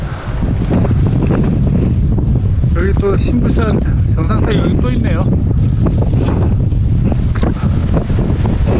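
Strong wind roars and buffets the microphone without letup on the Sinbulsan summit in the Yeongnam Alps during harsh weather, loud and close, as someone talks over it.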